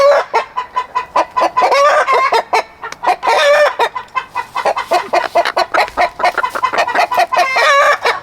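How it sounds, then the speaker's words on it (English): A hen cackles loudly and insistently after laying an egg, with rapid repeated clucks and rising squawks running nonstop at close range. "Sounds like somebody just laid an egg."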